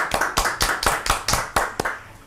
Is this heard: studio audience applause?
yes